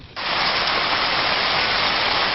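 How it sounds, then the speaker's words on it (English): Heavy rain pours down hard on the west side during a monsoon-season storm, a dense, steady roar of hiss that starts abruptly and holds loud and even throughout, with no voices. "Heavy rain made driving very dangerous, especially on the west side"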